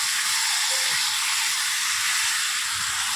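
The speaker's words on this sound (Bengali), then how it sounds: "মশলার সাথে মাংসটাকে ভালো করে কষিয়ে নেব" Chicken sizzles in a pan with spices while being fried, a steady loud hiss of hot oil that continues without a break, close by and with no talking.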